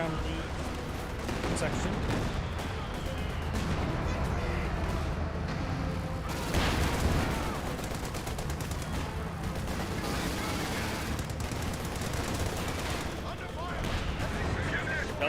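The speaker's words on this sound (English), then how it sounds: "You can finish a rocket barrage. One grenade gets thrown." Rocket barrage and grenade explosions in the Company of Heroes 2 video game, a steady dense stretch of battle noise with gunfire and blasts, heard under continuous commentary talk.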